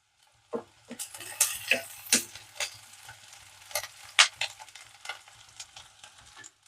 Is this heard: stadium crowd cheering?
no